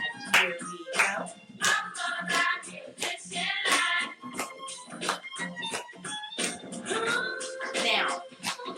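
Crisp clapping keeps time to a beat in a children's rhythm lesson, with a voice heard throughout over backing music and the claps landing at regular intervals near the mic.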